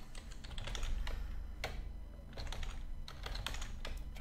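Close computer keyboard typing comes in quick bursts of crisp clicks separated by short pauses, fairly loud and alone without any voices.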